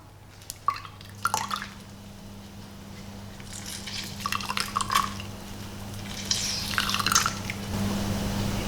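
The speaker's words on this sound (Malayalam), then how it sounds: "ഇനി ഇതിലോട്ട് നമുക്ക് നമ്മുടെ കയ്യിലുള്ള ആ ഹാഫ് നാരങ്ങ പിഴിഞ്ഞു കൊടുക്കാം." Half a lemon is squeezed by hand into a glass of honey water, giving a few scattered drips and soft liquid splashes in short clusters over a faint steady hum, close and quiet, with no talking.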